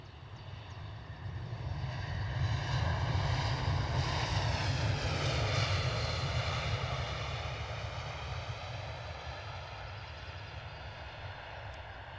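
A Finnair airliner at Edinburgh airport rumbles loudly with a steady engine roar and whine that swells, then slowly eases as it passes or taxis, with no talking.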